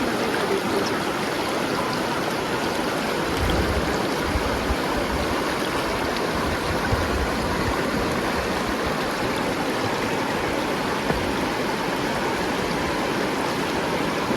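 A clear river at the Garjiya Mata temple in Uttarakhand flows steadily with a constant broadband rush of water, close and continuous throughout, with no talk.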